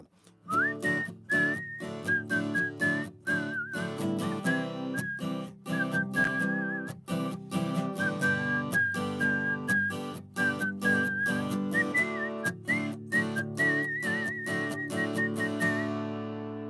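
A person whistles a lively melody alone, clear and close, with quick ornamented notes and a steady instrumental accompaniment underneath.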